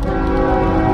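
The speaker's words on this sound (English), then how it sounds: "there's that train. I knew I heard something" A train horn blows a steady, sustained tonal blast through a quiet rural East Texas town, loud and unbroken for the whole second with rumbling low tones beneath.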